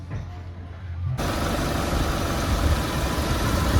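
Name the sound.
Mitsubishi Kuda Grandia 2002 engine idling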